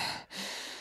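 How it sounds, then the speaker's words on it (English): A single heavy breath, a loud airy exhale broken by a brief pause before another rushing breath, close and unaccompanied, at the Winchester Mansion. "So people also hear heavy breathing."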